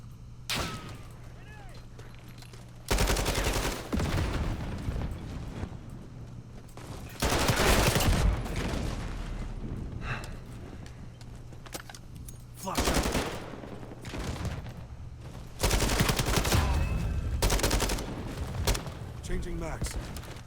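AK-74U automatic rifle fire in the Modern Warfare video game: several bursts of rapid gunfire separated by quieter gaps, loud and close, with a player talking between the bursts.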